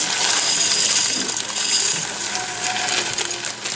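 Dry rice is poured into a pot on a stove holding water, garlic and green onion whites, making a continuous bright rattling hiss that fades out after a few seconds.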